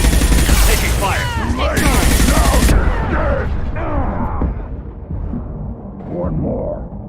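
Gunfire in Mass Effect Legendary Edition 2, dense bursts and shots crackling over swelling combat noise and game voices, loud at first and then easing off.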